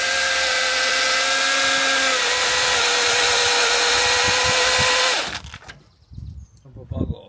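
A lump of bog oak is cut with a power saw: a loud, steady, high whining cut runs for about five seconds, then cuts off abruptly, leaving a few scattered knocks and handling noises.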